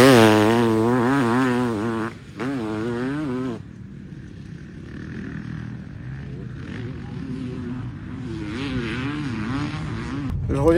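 A 500cc motorcycle lapping the race track at Olonnes, its engine note rising and falling through gear changes as it passes, loud near the start, fading to a distant drone mid-clip, then climbing back.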